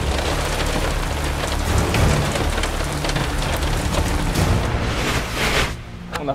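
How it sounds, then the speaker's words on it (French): Heavy rain pours down on a carp fishing pond during a spring storm, a dense steady patter with scattered louder drops and gusty rumbles, continuous throughout and easing slightly at the very end. "On a pris un peu de la tempête là."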